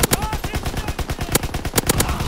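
Rapid automatic gunfire from the Call of Duty video game, dense bursts of loud shots rattling close by with sharp repeated cracks, layered over a busy battle mix.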